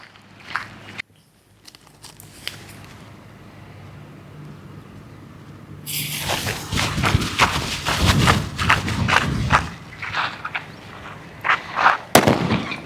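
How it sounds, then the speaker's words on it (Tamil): Paper bomb firecracker set off for Diwali, heard as a sharp loud blast followed by several seconds of crackling bursts and scattered pops, with a few thuds beforehand and a last burst near the end. "இப்போ நம்ம வெடிக்க போகிறோம் எதுன்னு பார்த்தீங்க அப்படின்னா பேப்பர் பாம்பு தான் ஸோ எப்படி வெடிக்குன்னு பார்க்கலாம்"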